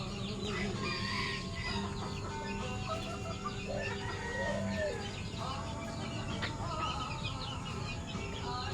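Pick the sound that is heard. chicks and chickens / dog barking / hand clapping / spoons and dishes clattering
chicks and chickens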